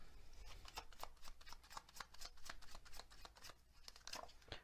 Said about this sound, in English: then we'll get some of these tea leaf cards